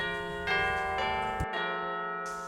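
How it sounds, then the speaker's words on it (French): Several church bells ring with rich, sustained tones, overlapping strikes clanging at a steady pace. "les cloches sonnent, c'est l'heure d'aller manger"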